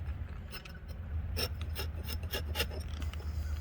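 A Trail Boss axe shaves wood from a stick in a series of quick, close scraping strokes, irregular and rasping, under a low steady background hum, with no talking.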